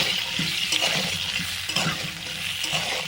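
Whole round potatoes frying in hot oil over a lit clay stove ahead of a chicken curry, a loud continuous sizzle close by with occasional stirring scrapes and no talk.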